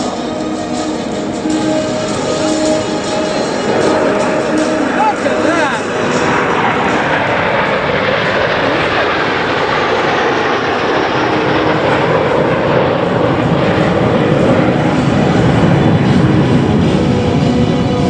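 Patrouille de France jets flying an air show display at Duxford, a loud, sustained engine roar that swells and shifts as the aircraft pass, with a commentator's voice over it.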